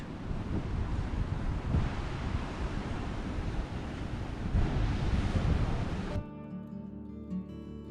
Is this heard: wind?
yes